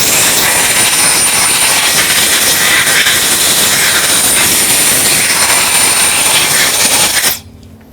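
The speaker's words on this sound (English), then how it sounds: "It's like a handheld air compressor." A handheld air compressor used during a rebuild blasts a loud, steady, close hiss for about seven seconds, then cuts off abruptly into near silence.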